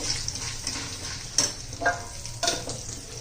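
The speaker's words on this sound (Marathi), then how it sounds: "1 चमचा, 1 चमचा धना पावडर आणि हळद. छान असं परतून घ्यायचे" Coriander powder and turmeric sauté in a pan with homemade masala for spicy bitter gourd, a quiet hiss of frying broken by a few scraping stirs of a spoon, close up, with no voices.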